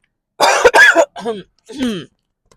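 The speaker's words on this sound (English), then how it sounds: "My cough is coming back." A person coughs several times in close succession, two harsh bursts followed by two softer throat-clearing coughs, close and fairly loud with silence around them.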